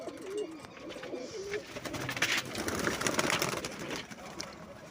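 Rooftop pigeons coo in a few soft, warbling calls near the start, faint and close, followed by rustling and shuffling noises and a voice speaking.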